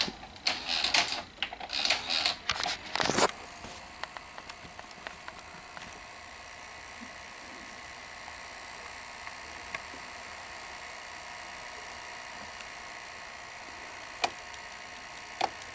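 Sony SL-330 Betamax VCR loading and threading a tape, a burst of mechanical clicks and clunks over the first few seconds, then a steady faint motor whir with occasional small ticks, close up, no talking.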